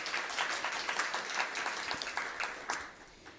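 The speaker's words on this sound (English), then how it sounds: "let's give him a round of applause" A board meeting audience applauds an award honoree with steady, moderately loud clapping that carries on for several seconds, with no talking over it.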